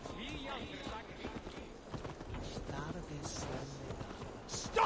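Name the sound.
horse galloping in video game Assassin's Creed Valhalla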